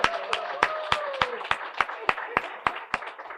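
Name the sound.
applause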